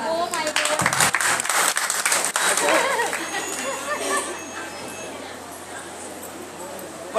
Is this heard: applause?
yes